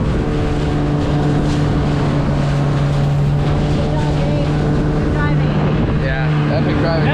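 A small inflatable dinghy with an outboard motor drives through ocean waves off remote Panama islands, its engine droning loudly and steadily under wind buffeting the microphone, with voices talking briefly near the end.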